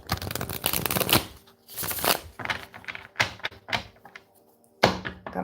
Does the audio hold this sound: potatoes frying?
no